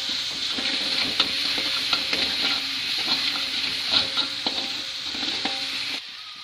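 A spatula stirs noodle seasoning paste frying in a hot pan, a steady close sizzle with repeated scraping strokes throughout, alone without voices.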